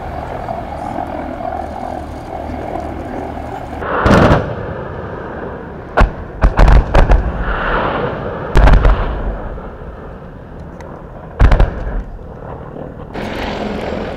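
Several loud explosive blasts from unguided aircraft rockets strike in bursts during a military exercise in Serbia, some in quick succession, over a steady aircraft engine drone.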